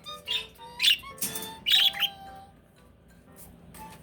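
A pet bird sings a run of bright chirps and whistled tweets, loud and close in quick bursts, then trails off into a few quieter notes.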